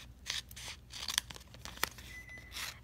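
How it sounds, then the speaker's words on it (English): Scissors snip through excess adhesive vinyl in a few crisp, quick cuts with crinkling rustles of the sheet between them, close up and quiet, with no talk. "I'm going to cut my excess vinyl off."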